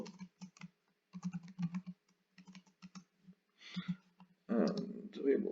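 Quick bursts of typing on a computer keyboard, with clustered clicks separated by short pauses, fairly close. A low voice murmurs between and under the keystrokes.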